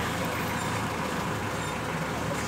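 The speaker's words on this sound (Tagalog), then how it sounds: "sa gilid kami ng kalsada medyo maingay, may mga sasakyan kasi guys" Steady roadside traffic with trucks and buses rumbling past, a constant loud wash of engine and tyre noise beside the road without pause.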